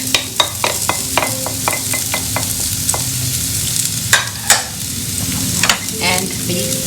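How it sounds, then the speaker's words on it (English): Onions frying in ghee crackle and sizzle steadily in a pan, with a string of sharp stirring clicks and scrapes from a utensil near the microphone. "And I'm going to fry these onions."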